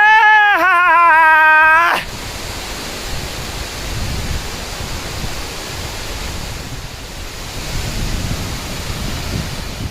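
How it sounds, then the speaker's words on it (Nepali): Sunsari waterfall rushes with a steady, broad roar of falling water that fills the scene after a brief voice at the start. "यो चाहिँ सुनसरी झरना हो"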